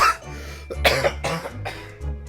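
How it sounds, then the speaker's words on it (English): A character in the video game The Great Ace Attorney coughs in a short burst of three or four harsh, throaty coughs, close and fairly loud, with nothing else around them. "he has the same cough as me too"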